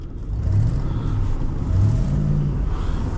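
A Ford 5.4 pickup truck engine runs steadily with a low mid-range rumble and slight rises in revs, close and fairly loud throughout, with no talking.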